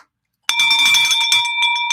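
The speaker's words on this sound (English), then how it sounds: "Ring that bell then, huh?" A celebratory bell rung to mark a closed real estate deal rings out loud and sustained after a brief silence, its bright tone lingering with a few repeated strikes toward the end.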